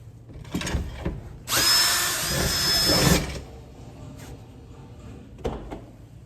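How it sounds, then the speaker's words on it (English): A power drill whines loudly for about a second and a half, boring through a van's metal body, with clanks and handling noises before and after. "So continuing the drill bit all the way through so we have access"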